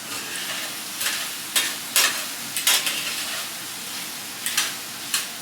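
Tongs stir ingredients in a stainless steel pan over a steady sizzle, with several sharp metallic scrapes and clicks spaced irregularly, close and fairly loud, no talk.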